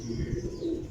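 A pigeon coos in a low, throaty burble close by, one brief rolling call.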